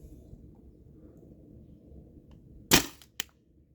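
A Tippmann TPX paintball marker running on a 12 gram CO2 cartridge fires two sharp, loud cracks close by, the first stronger, the second a moment later, over a quiet background hum.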